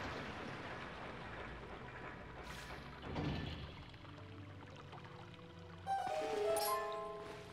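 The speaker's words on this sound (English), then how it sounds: "we need to grab onto this to release some water." Water being released in Zelda Twilight Princess HD: a continuous rushing, pouring flow with a swell near the middle, overlaid by game music and chiming tones toward the end.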